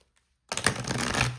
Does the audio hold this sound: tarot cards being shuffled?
yes